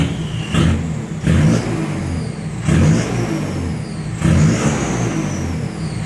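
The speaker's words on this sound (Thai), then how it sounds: "พี่เหยียบคันเร่งนะครับ" A car fitted with a steel exhaust pipe revs in four sharp bursts, each rising to a loud growl and dropping back to idle between presses. The sound is close and unaccompanied by speech.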